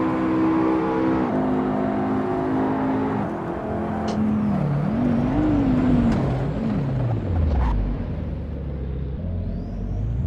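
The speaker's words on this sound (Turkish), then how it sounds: "şimdi fren testine bakalım." Car engine in Assetto Corsa, a Mercedes or McLaren in traffic mode, running through a braking test: a steady loud rumble with engine tones falling and gliding downward as the car slows, with no talk.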